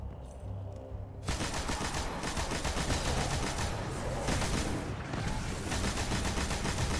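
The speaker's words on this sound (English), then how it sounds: "get our weapons out and start shooting" Weapons open up in Destiny after a quiet opening with a low tone, then a sudden, continuous dense barrage of rapid gunfire fills the rest, loud and unbroken, with bursts swelling and overlapping.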